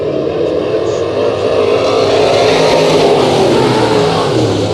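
Dirt track race cars roar together at a green-flag restart, a loud, dense, continuous engine drone with rising revs filling every moment.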